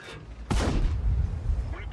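A tank cannon fires a shell in World of Tanks, a single sharp loud blast followed by a heavy booming rumble that lingers for over a second.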